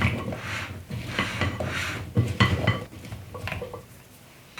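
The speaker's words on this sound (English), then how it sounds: "I'm just going to give this a good stir till everything is evenly coated" Sweet potatoes coated with honey, pecans, olive oil and salt are stirred in a bowl, giving soft scraping and clinking of a utensil against the dish in irregular strokes, fairly close and alone.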